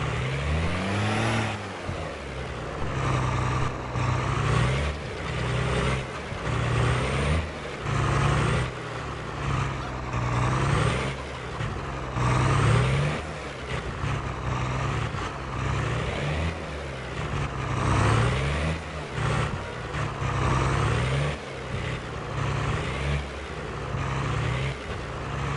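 A truck in Farming Simulator 22 reverses a trailer, its engine droning steadily near the listener with repeated swells of revving as the throttle is worked up and down.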